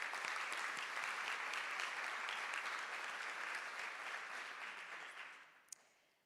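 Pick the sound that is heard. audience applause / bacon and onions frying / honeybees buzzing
audience applause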